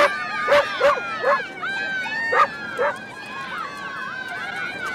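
A dog barks sharply in a rapid series of close yelps, then keeps going more faintly, while children's voices and excited crowd chatter fill the background.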